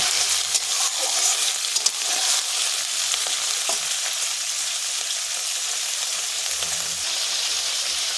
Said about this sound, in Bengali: তেল গরম হয়ে গিয়েছে, এখানে দিয়ে দেবো আমি চিংড়ি মাছ। চিংড়ি মাছটা দিয়ে দিয়েছি, এবার আমি নাড়াচাড়া করে নেব।